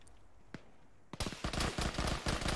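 A frag grenade blast and gunfire in a military game: a single soft crack first, then after a short quiet a loud burst of sharp rapid cracks and pops continuing to the end.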